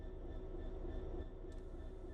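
A train in Train Sim World 3 starts to move, giving a steady low rumble with a faint mechanical hum, continuous and moderately quiet, with no voices.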